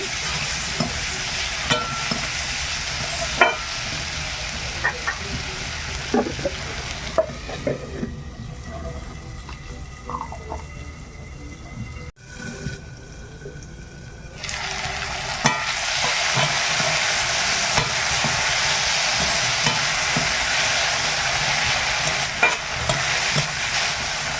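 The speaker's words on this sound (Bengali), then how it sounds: "আলু পেঁয়াজটা ভালোভাবে ভাজা হয়ে গেছে" Potatoes and onions with salt and turmeric fry in a pan, a sizzle with frequent stirring clicks and scrapes, which quiets briefly midway, then returns as a louder, denser hiss for the final stretch.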